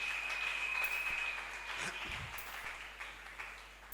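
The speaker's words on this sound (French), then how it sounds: "Est-ce qu'on peut acclamer pour la gloire de Dieu?" A church congregation applauds and cheers for the glory of God, a diffuse wash of clapping that fades gradually over a few seconds.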